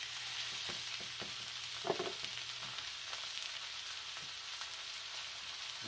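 Partly frozen ground beef sizzles steadily in a hot pan, a continuous crackling hiss broken by a few scraping and tapping sounds from a utensil.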